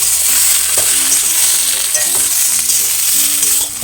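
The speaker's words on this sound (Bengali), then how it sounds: "আবার একটু ভালো করে শুকনো শুকনো মতো করে আমি নেড়ে নেবো" Banana flower chop filling is stirred as it fries in a pan, giving a loud, close, continuous sizzle with scraping stirs throughout.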